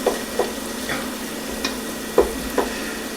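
Butter chicken is stirred in a sizzling pan: a spoon scrapes the bottom in separate strokes about every half second over a constant frying hiss, close and fairly loud, with no voices.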